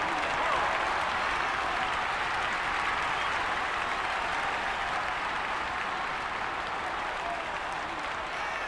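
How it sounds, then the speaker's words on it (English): Steady, loud crowd cheering and applause in GameCube All-Star Baseball 2002 after a home run, a dense roar sustained without a break and fading only slightly toward the end. "This crowd is going crazy."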